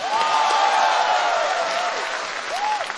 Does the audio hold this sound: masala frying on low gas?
no